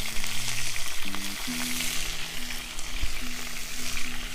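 Elk steak quesadilla seasoned with cayenne and black pepper cooks over a campfire, giving a steady, close broadband sizzle with faint crackle and a few low tonal hums running beneath, continuous throughout.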